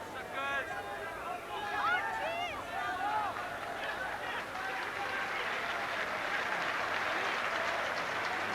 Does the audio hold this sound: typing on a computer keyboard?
no